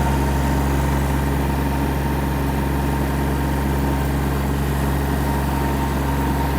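The engine of a Kubota A-195 Japanese mini tractor runs steadily while the tractor turns in place, giving a loud, constant low diesel drone with a fixed hum and no speech.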